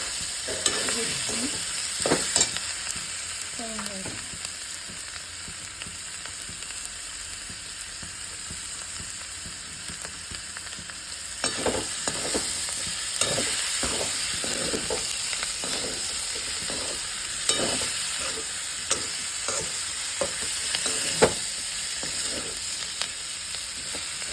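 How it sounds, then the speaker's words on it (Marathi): Potatoes and coriander fry in a pan under a continuous sizzling hiss, with repeated scraping and clattering stirs, busiest in the second half, with no talking. "कोथिंबीर बटाटा दोन्ही मिक्स टाकायचा सगळं असं"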